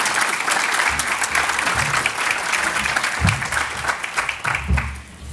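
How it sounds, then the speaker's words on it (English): Audience applause at a summit panel on the gender retirement gap, a steady wash of clapping from a crowd filling the whole span at even loudness. "Huge round of applause,"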